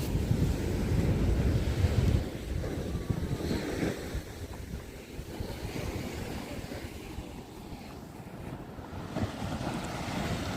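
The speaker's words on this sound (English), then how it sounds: "Waves are actually pretty calm." Calm ocean waves at night off Balboa Island in Newport Beach, California, wash in softly with gentle surf swells and steady wind noise across the microphone, with no talking.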